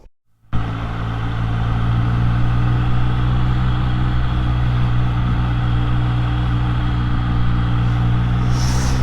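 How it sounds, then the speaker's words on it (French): A 2023 Triumph Street Triple 765 RS motorcycle runs steadily after a brief start, its engine a continuous loud, low drone with no change in pace, ridden solo. "au guidon plutôt de cette Street Triple 765 RS de 2023"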